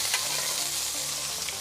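Steak sizzles steadily in a hot pan while butter is spooned over it, a continuous close, bright frying hiss with no voices.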